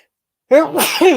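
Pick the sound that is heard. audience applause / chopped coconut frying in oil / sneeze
sneeze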